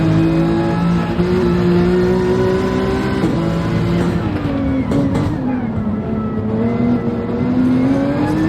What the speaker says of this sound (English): One Porsche chasing down two AMGs down straight, and the grunt of that AMG gives Shelty a slight advantage.